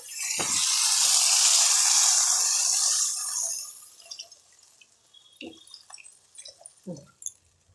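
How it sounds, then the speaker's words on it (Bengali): Water pours into a pan of Bengali fish curry with potatoes, a loud rushing hiss for about three seconds that tapers off, followed by faint sizzling and scattered small clinks. "এইবারে আমি জল দেবো"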